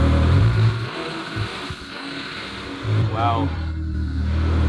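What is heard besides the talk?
Ferrari engine revving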